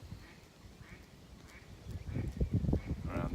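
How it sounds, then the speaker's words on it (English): Waterfowl honk and quack in short bursts, quiet at first then growing louder and busier toward the end, somewhat distant. "There's lots of geese"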